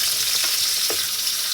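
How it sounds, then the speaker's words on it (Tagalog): Onions sauté in a pan with a loud, close, continuous sizzle and a faint scrape or two of stirring. "gisahin natin itong sibuyas hanggang sa mag golden brown"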